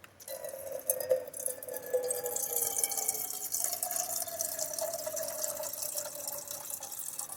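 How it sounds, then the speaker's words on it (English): Water streams steadily from a pump spigot on a water jug during truck bed camping, a close filling sound that rises slightly in pitch as the container fills, with no speech. "I'm loving this new spigot"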